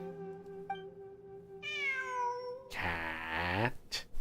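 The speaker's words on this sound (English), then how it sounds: "I'm not hearing things. It really is a cat." A cat in the video game Genshin Impact meows in drawn-out, tonal cries, one after another, loud and clear with no talking.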